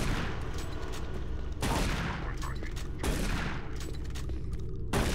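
Gunfire in the video game Doom 3 blasts in a dense, continuous barrage with heavy booming shotgun-like hits every second or so, loud and crowded with game effects.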